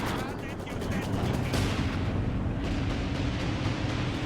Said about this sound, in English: Once again, doing these rather long-range barrages.